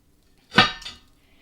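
An enameled cast iron frying pan is handled, giving one brief, close knock and clatter with a short second contact right after, then quiet.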